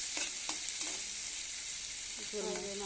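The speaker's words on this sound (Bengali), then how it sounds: "এখন এই যে কাঁচামরিচ, পেঁয়াজ, রসুন এগুলো ভাজা করতেছি" Green chilies, onion and garlic fry in a pan with a steady, soft sizzle, broken by a few stirring scrapes and a short clatter near the end; no voices.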